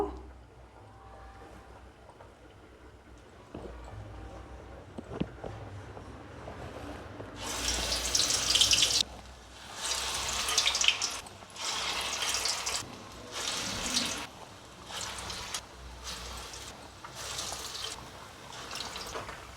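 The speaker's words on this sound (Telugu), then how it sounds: "ఆయిల్ కూడా హీట్ అయింది కదా ఇప్పుడు మనం గారెలు వేసుకుందాము" Garelu, Telugu lentil fritters, dropped into hot oil for a festival offering, set up a loud continuous sizzling hiss that swells in repeated bursts after a quieter start with faint kitchen noise.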